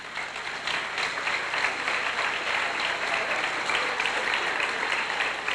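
A large audience at a graduation ceremony applauds steadily for several seconds, a dense sustained clapping with no voices standing out.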